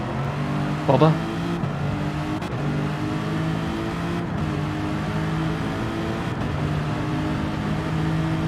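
Race car engine in a sim racing game, a steady low grumble held throughout at moderate level, with a brief rising squeal near the start and a person talking over it.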